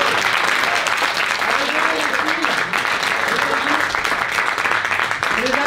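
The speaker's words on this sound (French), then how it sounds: "Merci, on peut les applaudir." Dense, sustained applause from a theatre audience after a teen drama show, with murmured voices and a few calls faintly mixed into the clapping.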